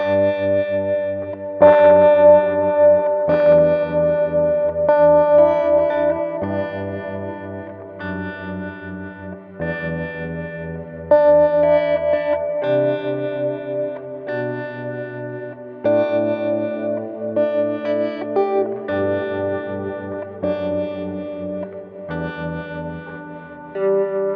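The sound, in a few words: guitar harmonic tremolo pedal with reverb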